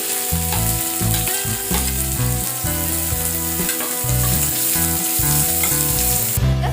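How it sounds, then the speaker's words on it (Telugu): Onions fry loudly in a pan with green chillies, curry leaves and garlic, producing a dense, continuous sizzle with faint stirring beneath a musical backing, and nobody speaking. "ఆనియన్స్ కూడా వేసుకుందాం"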